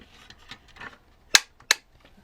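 Inside a vintage Robotron toy robot gun, a metal piece strikes its contact. Faint handling rustle is followed by two sharp, close clicks spaced a moment apart.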